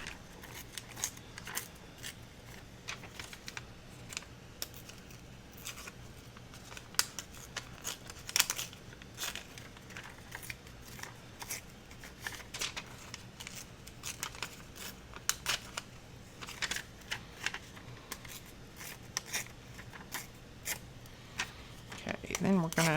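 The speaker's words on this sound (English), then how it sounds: "So I'm just going to tear the edges." Vellum paper torn by hand along its edges for a small hanging junk-journal cluster, giving short, crisp rips and crinkles at close range over a faint steady background, with a voice heard at times.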